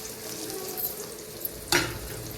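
Green chillies frying in a pan with onion for a Telangana-style curry, giving a steady broadband sizzle with a louder burst of crackling near the end, close and without voices.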